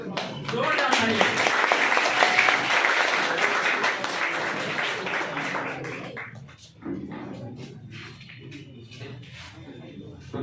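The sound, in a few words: audience applause at a poetry gathering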